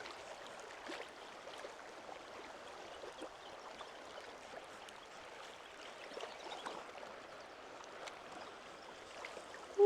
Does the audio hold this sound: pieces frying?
no